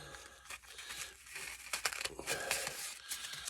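Sandpaper wrapped around a tool scrubs and polishes the inside of a hydraulic clutch part on a 1965 White tractor, a faint, uneven scratchy rasping in close, short bursts.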